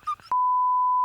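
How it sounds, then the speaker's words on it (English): A brief snatch of speech cut off by a loud, steady censor beep that holds a single pure tone for most of a second. "now I got to beep that"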